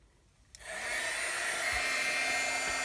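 A heat embossing tool switches on with a click and blows hot air upward, a steady, loud broadband whoosh like a small hair dryer that holds constant after starting.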